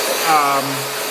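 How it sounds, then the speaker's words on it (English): Steady whir of a handheld hair dryer blowing on a cat during grooming, a continuous close airflow hum with a slight rise midway, alone without talk. "I'm sure Chapeau does not love being this blow dried, but she tolerates it beautifully"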